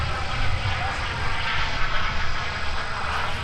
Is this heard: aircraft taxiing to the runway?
yes